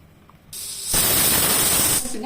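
After a quiet moment, steam suddenly bursts out of a pressure cooker in a loud, sharp hiss close by, holding for about a second before easing off.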